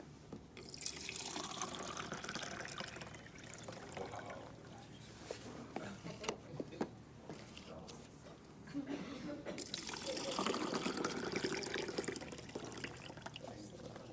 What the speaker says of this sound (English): if you wash your fruits and vegetables in this water